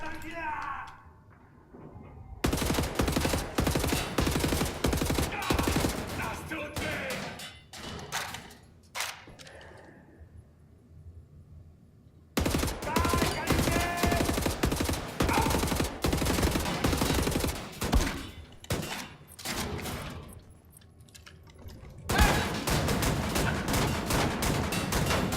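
Shotgun and other gunfire in the shooter Wolfenstein: The New Order, bursts of loud rapid shots in dense clusters separated by quieter gaps, with someone talking between some of the volleys.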